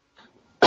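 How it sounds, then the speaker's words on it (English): A single sharp, loud cough bursts out near the end after a soft breath, close to the listener. "I'm currently in the middle of a terrible cough. So I will likely cough a few times."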